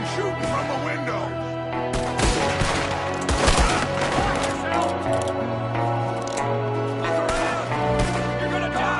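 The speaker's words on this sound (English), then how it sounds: "There's another one shooting from the window." Scattered gunshots from a shooter firing out of a window in Red Dead Redemption 2, irregular cracks over steady game ambience and music, with talk throughout.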